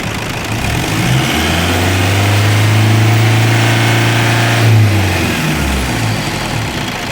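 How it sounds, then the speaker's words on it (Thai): A Toyota Vigo Prerunner 3.0 engine revs up loudly and holds a raised, steady roar for several seconds before easing back, with the radiator fan clutch whirring along under it. "ลองลองเหยียบมันเร่งหน่อย เหยียบมันเร่งหน่อยครับ"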